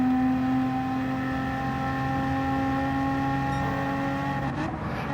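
BMW M4 Gr.4 race car in Gran Turismo 7 coasting off the throttle into a turn, a steady droning engine hum with layered harmonic whine held at near-constant pitch, close and continuous, easing slightly at the end.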